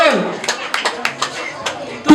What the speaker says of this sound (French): On applaudit pour Eric Ambago.